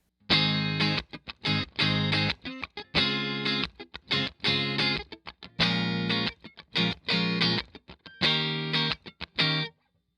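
An electric guitar plays through a Victory V40 Deluxe valve amplifier set to its 7-watt low power mode, giving bright, slightly driven chords and stabs in choppy, rhythmic bursts separated by short silences.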